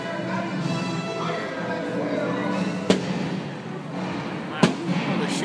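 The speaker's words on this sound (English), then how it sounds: "the whole show of the fireworks" Disneyland fireworks show in progress: a steady roar of crowd and distant crackle, punctuated by two sharp, loud bursts a couple of seconds apart, with people talking throughout.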